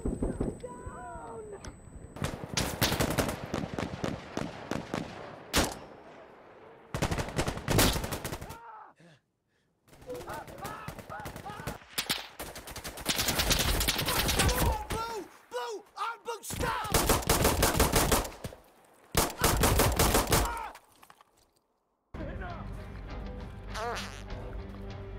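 Bursts of rifle and automatic gunfire in the tactical shooter Insurgency, fired through a wall at an enemy, loud repeated volleys separated by short pauses, with players talking between and over the shots.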